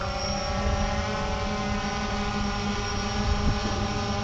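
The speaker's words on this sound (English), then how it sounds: "Okay, so the engines have started, the camera's pointed down." Multirotor drone motors run steadily right after startup, a constant whirring propeller drone with layered tonal hum and some wind buffeting, close and continuous throughout.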